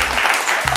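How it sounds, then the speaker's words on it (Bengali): Audience applause for a team at a Holi special family game show, a brief dense burst of clapping from a crowd. "টিম এর জন্য একটা জোরে হাততালি।"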